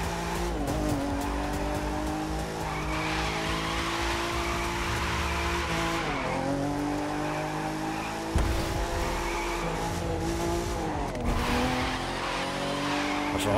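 Car drifting in The Crew 2 racing game, with a loud engine revving and falling and long sustained tire squeals through repeated slides, close and continuous.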